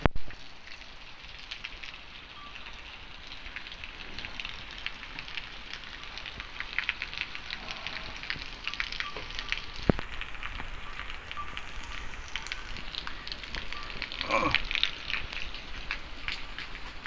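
Rain falls steadily at a Punjabi farmhouse, a soft continuous patter and hiss on surfaces, with a few brief knocks and taps in the background.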